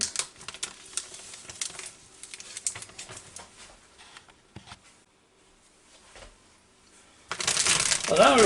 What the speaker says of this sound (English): And now we're just going to shake it up,